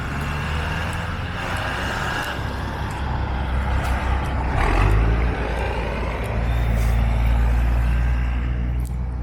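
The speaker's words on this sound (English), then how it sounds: "We already have a lot of transit, a lot of buses." Buses and other vehicles pass in street traffic in Honduras, a continuous loud rumble of engines with a swelling pass near the middle and a brief air-brake hiss, with no talk.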